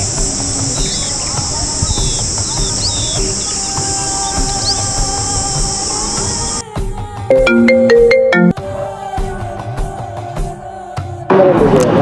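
A phone ringtone plays loudly while a call is being placed, a steady electronic tone that later shifts into a brighter melodic ring, with brief voices around it.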